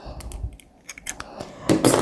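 Scissors are picked up and handled among crochet supplies, giving a few scattered metallic clicks and clinks close to the microphone, then a brighter rattle of handling at the end.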